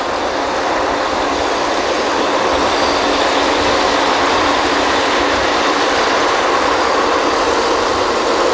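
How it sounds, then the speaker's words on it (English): Mud pumps on a drilling rig run with a constant loud, dense mechanical roar and hiss that holds steady without a break, and no voices are heard. "Mud pumps."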